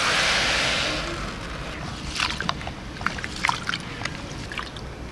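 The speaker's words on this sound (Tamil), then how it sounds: "இப்போ அரிசியும் பருப்பையும் அலசி எடுத்துக்கலாம்" Rice and lentils being washed in water, with a rushing pour at first and then sloshing, trickling and splashing as the grains are swirled by hand, close and moderately loud.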